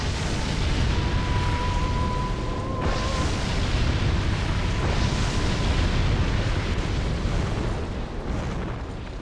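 A roaring fire in the Dark Souls 2 game sends up a loud, steady rumble with a dense, crackling texture that holds for the whole stretch, with a faint tone in the middle and no talk over it.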